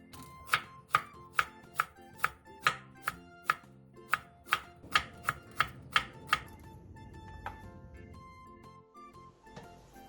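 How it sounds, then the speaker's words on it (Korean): A knife chops cucumber into strips and slices Cheongyang chili, red chili and green onion on a board, about a dozen crisp, close strikes in a steady rhythm that stops near the end, with no talk. "오이 1개를 채 썰고 청양고추 1, 홍고추 2분의 1, 대파 2분의 1개는 쫑쫑 썰어주세요."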